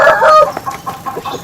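A Bangkok rooster clucks in a short string of close, loud calls, starting with a strong burst and followed by several quicker, softer clucks.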